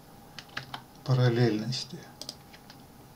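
Close clicks of a computer keyboard, a few scattered key presses before and after someone briefly speaks over them, while he works in SketchUp.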